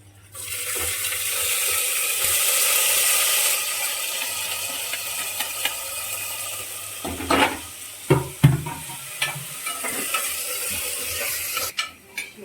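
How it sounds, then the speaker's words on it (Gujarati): Chopped vegetables hit a pan of softened garlic while making a wheat-porridge khichdi, starting with a steady broad hiss that fades, then scattered clicks and clatter of stirring from about seven seconds on. No talk. "હવે સબ્જીને થોડી સાતરવા દઈશું આપણે"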